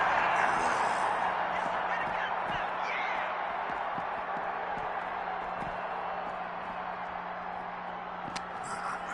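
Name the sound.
wrestling arena crowd in WWE 2K26 video game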